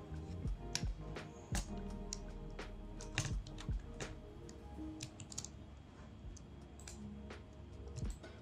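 Steady typing on a computer keyboard, a close run of light key clicks with a few sharper taps, no voices.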